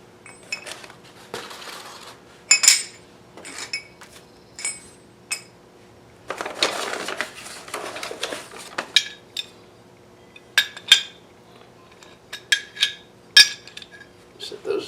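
Aluminum wheel fit kit pieces are unpacked and handled, giving scattered sharp metallic clinks and clanks with rustling of packaging between them, close and fairly loud in a quiet room.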